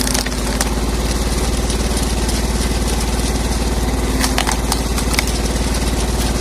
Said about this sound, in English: splitter, powered by a TZ 4K tractor engine, consumes only 1 liter of gasoline per hour of operation